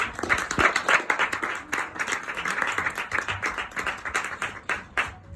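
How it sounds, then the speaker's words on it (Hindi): Loud, dense audience applause and clapping fills the space right after a patriotic stage recitation at a Red and Black performance in Goregaon, Mumbai, sustained and steady throughout. "जोरदार तालियां"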